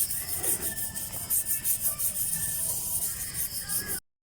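Fine sandpaper rubs rust off the stator of a 7 kW hub motor, making a continuous rasping scrape with a fast back-and-forth rhythm, close and steady, before cutting off abruptly.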